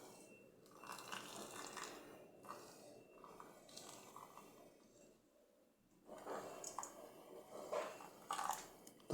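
Hot water is poured gently in a thin stream as a 50 ml coffee pre-infusion, a soft, faint trickling that pauses briefly and then resumes more strongly.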